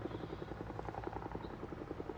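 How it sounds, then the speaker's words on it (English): A helicopter in a video game, a low, faint rotor chop with a rapid, even thumping pulse under a steady buzz, heard alone without talk. "Sounds like the helicopter's gone though."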